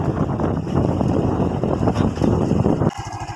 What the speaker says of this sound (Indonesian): Sekarang untuk mesin sudah halus.